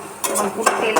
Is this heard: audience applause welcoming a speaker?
no